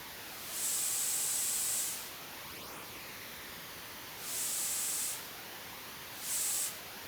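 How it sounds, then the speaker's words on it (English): Full-spectrum broadband hissing noise, panned by elevation, plays continuously, swelling louder in three separate stretches with a brighter, airier character each time, then falling back to a steady hiss. "this is using full frequency spectrum noise"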